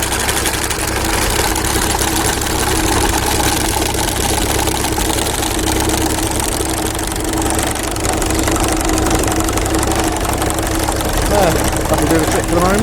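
A Ferguson TED20 tractor engine idling unevenly, a loud, steady close-up knocking chug that runs without a break, with a voice talking over it.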